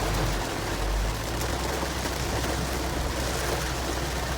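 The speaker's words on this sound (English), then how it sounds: "It's raining so hard." Heavy rain pounding down at an Arkansas River Road campground in Arkansas, a loud, dense, unbroken wash of drumming drops with a low rumble at the start and no talking.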